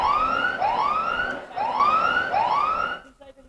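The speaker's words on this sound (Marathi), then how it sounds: "आमचे डीजे देखील आता सायरन वाजवतात" A DJ at a local cricket match blasts a wailing police-style siren, four rising sweeps repeating loudly before it cuts off, with faint crowd sound beneath.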